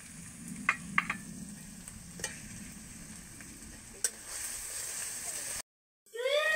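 Chopped tomato from one large tomato goes into a pan of onions fried until lightly browned, for a fish curry. A low, steady sizzle runs under scattered stirring clicks, then a short silence and a brighter burst near the end.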